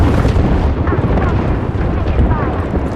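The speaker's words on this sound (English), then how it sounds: "It summons an airstrike. So you don't want to stand near where any of those missiles are," Airstrike missiles explode in the video game Apex Legends, a dense, continuous rumbling roar of blasts with heavy low-end boom that stays loud throughout.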